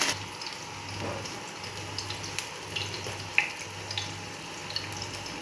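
Homemade burger patty frying in a pan, a quiet steady sizzle with faint crackles and small pops, close and alone.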